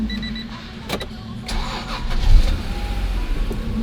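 A 2023-era Acura NSX NA2 engine cranks and fires up after an ECU reset, with clicks, a short starter whir, then a loud rising catch that settles into a steady idle close by.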